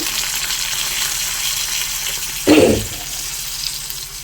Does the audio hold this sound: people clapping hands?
no